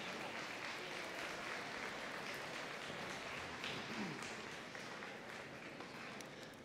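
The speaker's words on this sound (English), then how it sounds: "Let's once again give a big round of applause to those students graduating with their silver honor course this year." Steady, sustained applause from a large crowd at a high school senior convocation honoring graduating students, continuous dense clapping that fades slightly toward the end.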